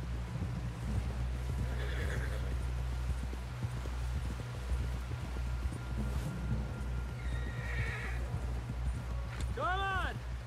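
In the video game Red Dead Redemption 2, a horse gallops with rapid steady hoofbeats under voices and ambience, then lets out a clear, close neigh at the end.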